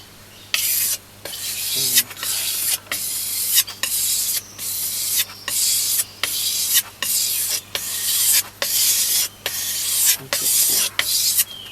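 Fine sandpaper on a stick, loaded with GOI polishing paste, rasps against a shoe sole in regular back-and-forth strokes, each a loud, gritty scrape with brief gaps between, close up and without speech.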